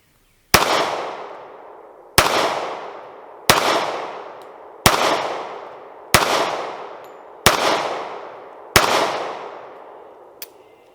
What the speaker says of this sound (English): So we're going to throw another few rounds through it and see what happens.